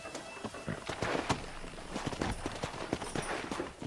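Horse hooves clip-clop on the ground in Red Dead Redemption on Xbox One, an uneven string of moderate thuds with a faint voice now and then.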